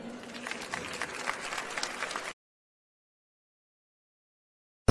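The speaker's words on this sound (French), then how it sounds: "On l'applaudit." A conference audience at a talk on workplace mental health gives a burst of lively, fairly close applause that lasts about two seconds and then cuts off abruptly into silence.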